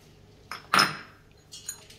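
Carrot pieces drop into a metal pressure cooker while a mixed vegetable pickle is being made at home. A few sharp clinks and thuds sound close by, with the loudest in the middle, in an otherwise quiet kitchen.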